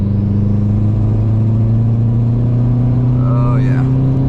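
A modified car engine runs close by with a steady, loud, low droning hum that holds an even pitch throughout, with a brief voice-like sound near the end.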